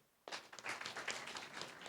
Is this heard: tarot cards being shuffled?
no